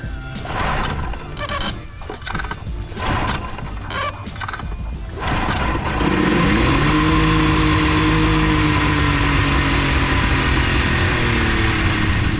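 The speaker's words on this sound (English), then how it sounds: "Engine's on. Please start." After some clanking and rattling, an old boat motor, unused for years, sputters to life and runs loudly and unevenly, its pitch wavering as it idles roughly.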